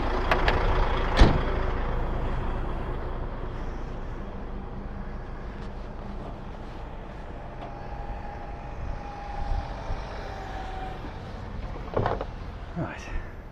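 An HGV truck's air brake gives a sharp hiss near the start, followed by a steady idling diesel rumble with a faint tone and a few small clunks. Someone speaks over it.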